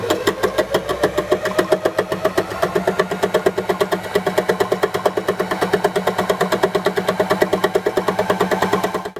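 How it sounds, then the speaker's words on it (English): A Janome FM725 embellishing machine runs at full speed, its needles punching through felt and fabric in a fast, steady mechanical chatter. The rapid even pulses stay close and loud throughout, with no one talking. "The embellishing machine should always be run at full speed or you risk breaking your needles."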